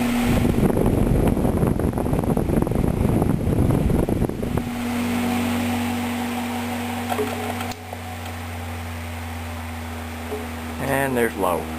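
A Dominion 2017 12-inch oscillating electric fan runs with a loud, steady whooshing hum and low tonal drone, its character shifting midway as the setting changes, with a few clicks near the end.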